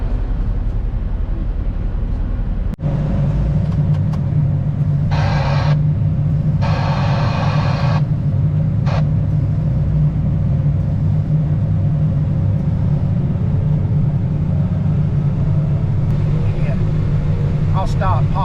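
A tractor engine arriving to pull out a stuck vehicle drones as a steady low rumble close by, with a few brief bursts of noise over it and a person talking.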